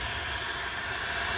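A steady broadband hiss of a heat gun blowing on sound deadening in the trunk of a 1997 Cobra, continuous and close with no pauses.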